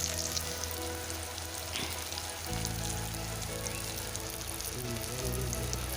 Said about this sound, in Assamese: বেঙেনা ফ্ৰাই কৰি লওঁ